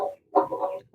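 A brooding hen being set on eggs clucks close up in short bursts, a few soft throaty calls separated by brief silences.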